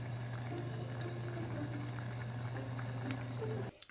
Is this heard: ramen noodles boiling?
yes